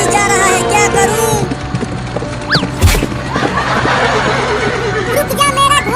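A horse whinnies loudly amid a busy comic scene with background music and voices, the neighing rising in pitch before a thud; no steady galloping hoofbeats stand out.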